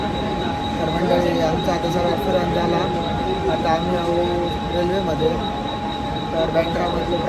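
A Mumbai suburban train near Bandra rumbles and rattles steadily from inside a carriage, with a continuous metallic whine and wheel squeal over loud rolling noise and faint voices beneath.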